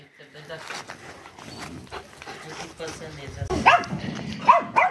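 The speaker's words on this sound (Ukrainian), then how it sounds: "Хтось іде, собак робота. Погавка, да?" A dog barks sharply a few times near the end, close by, after a stretch of people talking quietly in the background.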